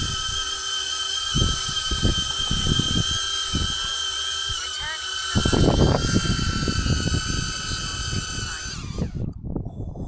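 A small consumer camera drone, a Neo 2 or HoverAir, hovers close by with a steady high-pitched whining buzz of its propellers. Irregular thumps and knocks sound beneath it, and the buzz shifts in pitch near the end.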